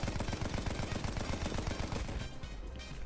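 A mounted machine gun in the Battlefield 1 video game fires a rapid, sustained burst of rattling shots, close and loud, before the fire cuts off near the end.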